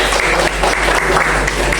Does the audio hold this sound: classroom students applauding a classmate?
yes